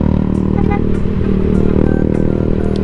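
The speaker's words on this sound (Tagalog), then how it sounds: "Nakasabay tayo sa motor." A motorcycle rides right alongside a Nwow WSP e-bike cruising near 57 km/h, its engine a loud, close, steady drone mixed with rushing wind and road rumble, with no talk.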